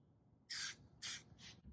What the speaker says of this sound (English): And then we're going to spray our threads on our stem.